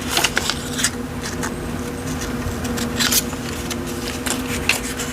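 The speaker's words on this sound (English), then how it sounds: "We're going to tear to the leaf, tear up to the leaf, into the leaf, and then just fussy cut these bits." Scissors snip paper bits for a mixed-media journal page, a run of short crisp cuts close up over a steady low background hum, with no talking.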